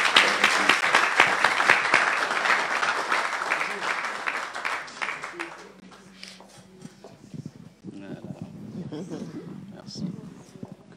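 Church congregation applauding and cheering at a Sunday service, dense sustained clapping for about five seconds that then fades into quieter crowd murmur and scattered voices.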